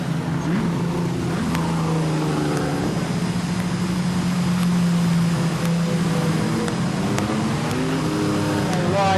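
Production sedan race cars lapping Maryborough Speedway in a late-stage A-Main, engines droning and revving steadily close by, with a race commentator talking over the roar.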